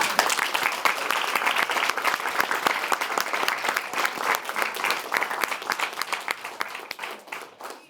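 Audience applause at a university civics competition, a roomful of people clapping briskly with distinct close hand claps, holding strong before tapering off toward the end.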